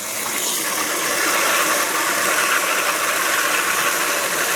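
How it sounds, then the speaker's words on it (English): Running tap water gushes steadily while steel neoprene-coated weights are rinsed clean, a continuous close hiss with no voices. "Then turn the water up a little bit."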